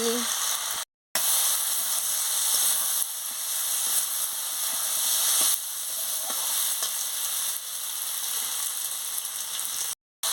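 Koi fish and spices sizzle steadily in a pan for a papaya fish curry, a continuous bright frying hiss with a couple of brief breaks, heard alone and up close.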